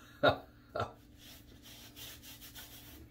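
Two short, soft rubbing swishes of wet cloth against skin, close by, followed by quiet low background noise.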